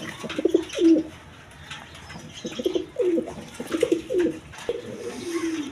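Several pigeons coo in repeated low, throaty bursts at a pigeon seller's, one after another at an irregular pace, close by with light background noise.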